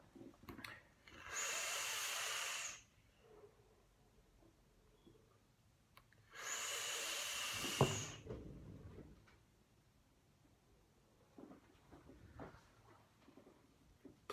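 A Reuleaux RX200 vape mod at 100 watts with a DOG3 atomizer and wide-open airflow gives two steady two-second hisses during hits, separated by quiet pauses.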